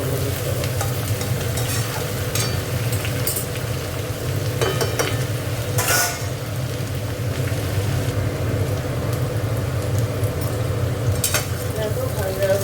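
Onion stalks (piajkoli) fry in a pan with a continuous sizzle and scattered stirring clinks, loud and close, holding steady for the full length.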